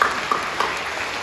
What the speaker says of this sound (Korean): 박수로 경배해 주시죠.